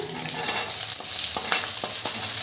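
Carrots and beans are stir-fried in a pan for navratna dal, with a loud, close sizzle and a series of quick spatula scrapes in the second half.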